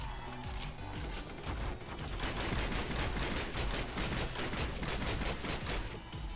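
Rapid, sustained gunfire rattles through a zombie-fighting session in the video game Roblox Zombie Stories, a dense fusillade of overlapping shots that runs the whole time at a fairly low level, with no talking.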